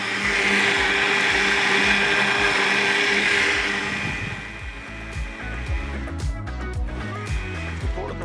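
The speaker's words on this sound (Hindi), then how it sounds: "लेकिन इसको आपने ग्राइंड खूब करना है ताकि अच्छी तरीके जितना फाइन पेस्ट बनेगा उतने ही बेहतर इसका ड्रिंक बनेगा।" A heavy-motor grinder whirs loudly as it grinds a fine paste for a drink, its steady high whine running for several seconds before slowing, churning and knocking as the motor winds down.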